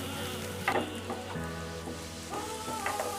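Onions fry in a pan for homemade dragon chicken, cooking down toward brown with a steady, close sizzle and a few brief bursts of stirring over a soft tonal background.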